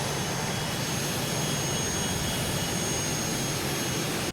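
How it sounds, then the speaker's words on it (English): Jet engines of a Cockspur Phenom PH100 in Microsoft Flight Simulator produce a steady, even whine and roar with a thin high tone, unbroken and moderately loud until it cuts off. "These engines are very quiet on the taxi, and they get a lot louder, a lot quicker here."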